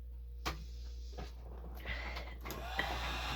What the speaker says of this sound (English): pop on my hot gun here